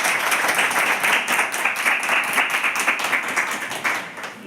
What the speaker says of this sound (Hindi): तो एक बार जोरदार ताली है।